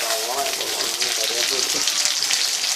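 Curry leaves hiss and spit in hot oil for a chicken kadai, a steady close sizzle that continues under a person talking.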